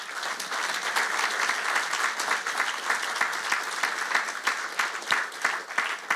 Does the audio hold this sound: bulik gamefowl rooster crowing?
no